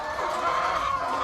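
Laying hens cluck steadily and close by as they eat, a dense continuous chorus of overlapping calls with no talk.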